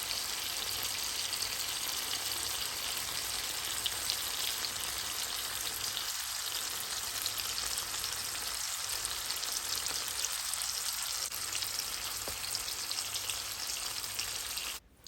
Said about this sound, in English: So we fry them on that side until they are nice and brown.